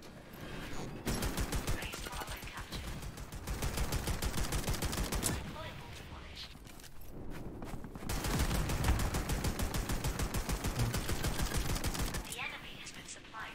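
Rapid automatic gunfire in the online FPS game LEAP, dense bursts of shots rattling continuously in long stretches with brief pauses between them.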